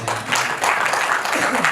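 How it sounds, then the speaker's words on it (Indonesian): An audience at a university doctoral ceremony breaks into applause, with brisk, steady clapping filling the short stretch and a voice faintly underneath. "Tepuk tangan dulu."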